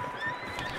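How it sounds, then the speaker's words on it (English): Horses whinny and stir close by inside a stable in the video game Red Dead Redemption, their neighs layered over a steady low ambient hum through a short moment with no talking. "Just disturbing horses."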